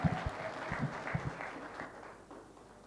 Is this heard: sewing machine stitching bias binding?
no